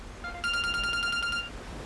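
A phone rings in short, rapid pulsed beeps after a brief tone, heard clearly and alone for about a second.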